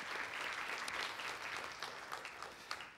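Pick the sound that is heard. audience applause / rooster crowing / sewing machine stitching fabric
audience applause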